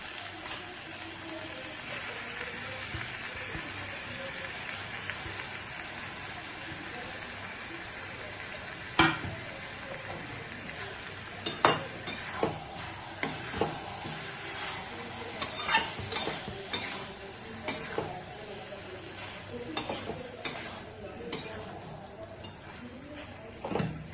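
Prawns frying in a pan for a banana flower curry make a soft, continuous sizzle, joined midway by scattered scrapes and clinks of stirring that grow more frequent toward the end.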